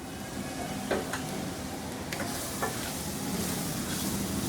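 Steady sizzling of flour frying in a pan with occasional soft scraping of a spoon stirring, close and continuous, no voices.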